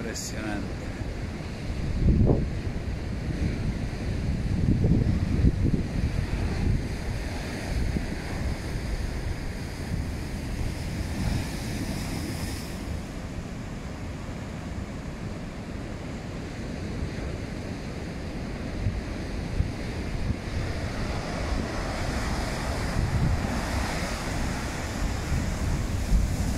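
Rough sea surf pounding the shore at A Coruña with the tide still rising: a steady, loud broadband roar of breaking waves, with a heavier crash near the start, continuous wind rumble on the microphone and no speech.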